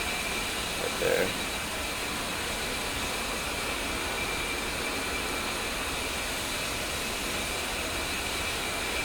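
An A-10C jet engine spools up in the DCS flight simulator, producing a steady, continuous broadband roar and whine that holds level throughout with only a brief bump near the start.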